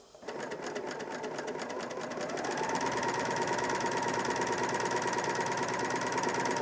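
A Bernina L460 overlocker run from its foot pedal hums into a fast, even mechanical chatter that settles into a steady, close whir after a couple of seconds, with no talking.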